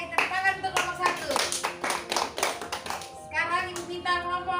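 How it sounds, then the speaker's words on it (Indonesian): A school class claps for a group of students in a classroom, a brisk burst of hand clapping with children's voices and a teacher talking over it, fading briefly before clapping and voices pick up again. "Oke, tepuk tangan untuk kelompok 1."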